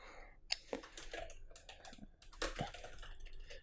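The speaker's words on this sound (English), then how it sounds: "let's just go to type something" Fingers tap a computer keyboard in quick, irregular clusters of clicks, close and fairly quiet, with no talking.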